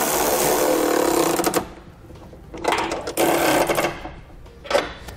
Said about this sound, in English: for the nuts that are on our T-bolts, I'm going to be using a 17mm socket